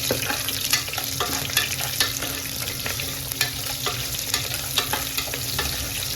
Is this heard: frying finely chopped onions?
yes